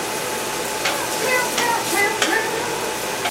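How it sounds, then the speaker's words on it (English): Vegetables sauté in canola oil in a pan for a Philly cheesesteak, giving a steady sizzle with a few brief scraping stirs on top. No voices are heard. "You hear the sizzle?"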